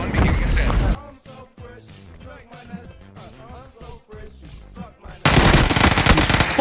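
Video game gunfire comes in two loud, dense bursts at the start and end, with excited voices talking over quieter game noise in between.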